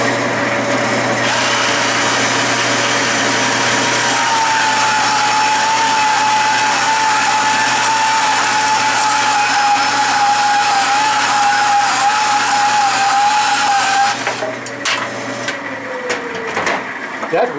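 A Milwaukee mini band saw running at about 400 to 500 RPM cuts through half-inch cold rolled steel, a steady high whine with a sustained grinding tone that stops near the end.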